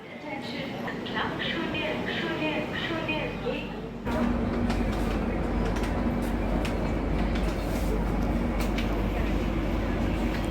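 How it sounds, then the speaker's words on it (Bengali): A 12314 New Delhi to Sealdah Rajdhani Express pulls away with a steady rolling rumble and rattling of the carriages that swells a few seconds in. Voices chatter in the background under the noise. "একদম কারেক্ট টাইমেই ট্রেন ছেড়ে দিল"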